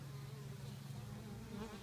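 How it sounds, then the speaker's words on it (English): Honeybees swarm around a top bar beehive, making a continuous droning buzz that is close and steady, with no voices. "So the bees are pretty busy."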